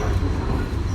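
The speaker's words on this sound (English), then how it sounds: "Our train is now crossing Ferry Road." A Mikado steam train rumbles heavily as it crosses Ferry Road on a Connecticut Valley railroad, a dense, close, continuous low rolling of wheels and cars filling the whole moment.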